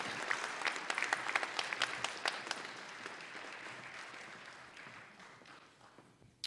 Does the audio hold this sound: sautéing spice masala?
no